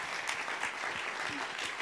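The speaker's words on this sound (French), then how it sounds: "On peut les applaudir." A ceremony crowd at a French awards event applauds honorees, a brief, dense burst of clapping from many hands with a faint murmur of voices beneath.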